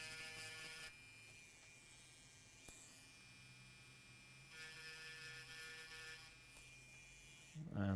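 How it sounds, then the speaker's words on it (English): A small rotary grinding tool scraping a circuit trace on a broken USB flash drive, a thin high buzz rising in two close bursts over a steady hum. "Let's grind this trace."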